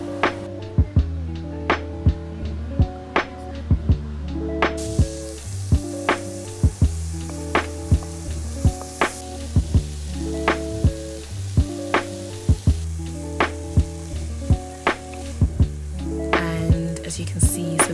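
Burgers and mushrooms fry in a pan with a continuous close sizzle, heard under rhythmic background music with regular beats and tones.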